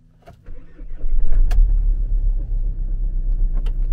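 A Mercedes Vito van's engine starts in freezing snowy weather: a brief starter crank, then the engine catches and settles into a loud, steady low idle rumble close by.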